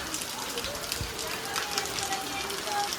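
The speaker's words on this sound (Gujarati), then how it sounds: "અત્યારે વરસાદ ચાલુ થઈ ગયો છે અને ફૂલ વરસાદ આવવાનો ચાલુ થઈ ગયો" Heavy rain falls at Balagam Ghed, a steady, dense patter and hiss that continues without letup and sounds somewhat muffled.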